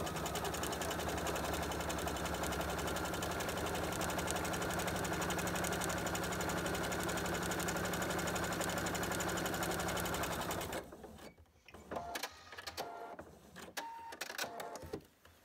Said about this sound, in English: after I have already sewn this center line, then I can just follow this guide right in my first marked stitch line.